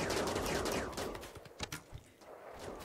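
Colonists in the video game Rimworld firing at muffalos, a dense rattle of rapid gunshots, fairly quiet and mixed, thinning into scattered individual shots.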